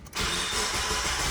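A 1996 Mitsubishi Lancer Evolution 4 engine, recorded from inside the car, cranks briefly and fires up at once, settling into a loud, steady idle that continues to the end.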